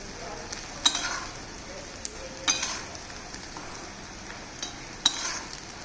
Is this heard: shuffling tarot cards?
no